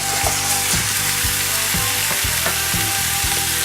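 Steady loud sizzling of meat frying in a hot pan for Lao tapioca rice noodle soup, with repeated low thumps and scraping as it is stirred, no voices.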